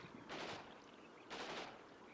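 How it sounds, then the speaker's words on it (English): Artillery shells landing in Combat Mission Shock Force 2 produce two faint, muffled blasts about a second apart, each a broad rumbling burst that fades quickly, distant and alone. "I think the artillery is still falling rather accurately now"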